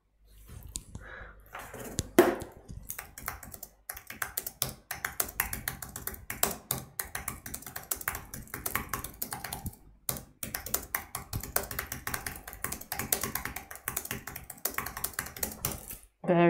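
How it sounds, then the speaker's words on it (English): Very quick, dense keyboard typing runs almost without pause. A rapid patter of close key clicks is broken by a few brief gaps, and a short voice-like sound rises near the start. "Very quick typing."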